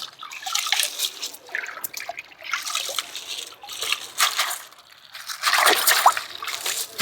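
Water drips and trickles as blocks of jaggery are rinsed and their plastic packets removed over a container. Wet splashes and squelches come in irregular bursts at close range.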